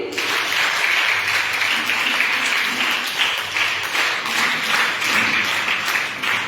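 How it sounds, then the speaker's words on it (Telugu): A crowd at a children's Vacation Bible School gathering applauds, with loud, continuous clapping that holds steady for over six seconds. "క్లాప్స్ కొట్టండి."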